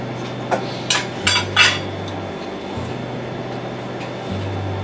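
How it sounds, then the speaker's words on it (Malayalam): Egg biriyani in a pot gets a few quick metallic clinks and scrapes from a spoon, then falls quiet under a steady low kitchen hum, with no speech. "ഗാർണിഷിന് വേണ്ടി എടുത്തു വെച്ചിരുന്ന ഒനിയനും കൂടി ഇതിൻ്റെ പുറത്തേക്ക് വിതറി നല്ലപോലെ ഇളക്കി ഒന്ന് അടച്ചു വയ്ക്കാം"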